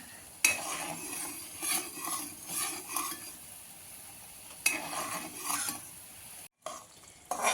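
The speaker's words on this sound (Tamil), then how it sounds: "கொதி வருது வெள்ளம் கரையணும்" Jaggery syrup for sweet seedai heats in a pan, a soft bubbling sizzle under repeated metallic scraping and clinking of a spoon stirring, with a brief silent gap near the end.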